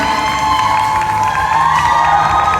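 A crowd at a Miss Universe Thailand regional pageant final cheers and applauds for a contestant, a continuous loud wash of shouting and whooping with clapping blended underneath.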